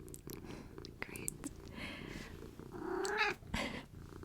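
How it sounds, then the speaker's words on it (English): Tibbs, a small pet cat, purring softly and close by in a quiet room, a low steady rumble under scattered light handling noises and a brief rising mew-like sound near the end. "My little cat Tibbs has decided to join us."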